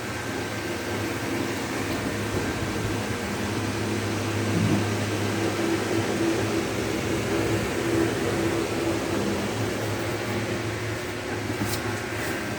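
An electric fan runs outdoors beside a chair, giving a steady, continuous whir with a low hum and faint tonal drone, even and unbroken throughout with no one talking.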